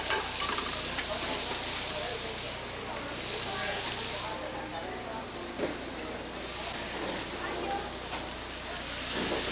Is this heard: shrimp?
yes